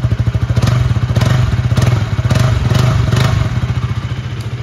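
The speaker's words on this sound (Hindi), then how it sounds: "एक बार मैं आपको इसका एग्जॉस्ट नोट भी दे देता हूँ" A 2023 KTM Duke 200 motorcycle with an underbelly exhaust, running on E20 fuel, idles close up. The loud, throbbing engine note pulses evenly and continuously throughout.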